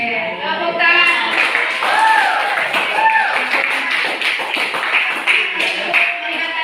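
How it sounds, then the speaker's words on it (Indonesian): A class of students claps hands in a classroom during a teacher training lesson, a steady patter of taps with voices talking and exclaiming over it. "Oke, tepuk tangan."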